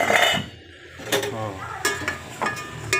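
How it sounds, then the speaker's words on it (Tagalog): Chicken is sautéed in a pan for Filipino tinolang manok with chayote, heard as close stirring scrapes and utensil clatter over a soft sizzle, with a voice talking intermittently. "Nagigisa na. Ayan na yung chicken natin."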